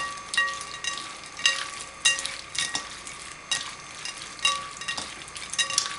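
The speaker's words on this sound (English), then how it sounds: "We're just going to toss that to make sure all the shrimp are covered with the olive oil." Raw shrimp tossed with extra virgin olive oil in a bowl, giving soft wet slithering and stirring sounds with periodic clinks and scrapes at a steady, repeating pace, close by and without any talking.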